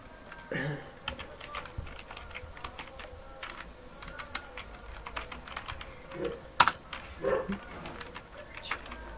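Keys are typed on a computer keyboard while an Excel IPMT formula is entered, heard as irregular bursts of close, soft clicking with brief pauses and one sharper tap.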